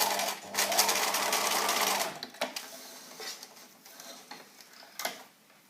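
A sewing machine runs in a fast burst for about two seconds while stitching a collar facing to a side seam, then falls to scattered ticks, clicks and handling noises nearby.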